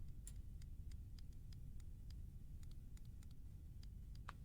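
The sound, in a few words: clock ticking in the video game Layers of Fear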